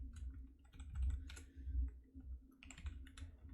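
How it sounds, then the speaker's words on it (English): Keys on a computer keyboard tapped in short irregular bursts, faint and close, with a low steady hum beneath and no talking. "you might have to type some more."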